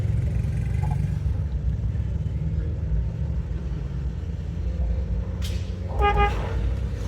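A Suzuki Every 660cc van with a conventional automatic transmission drives along, its engine a steady low hum heard from inside the cabin, with a brief horn-like tone near the end.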